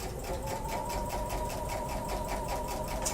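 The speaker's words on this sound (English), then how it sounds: "Okay, so now I'm going to stitch another 1/4 inch seam on this other side." A sewing machine stitching a quarter-inch seam on quilting fabric, a close, steady, fast mechanical whir with an even pulsing rhythm throughout.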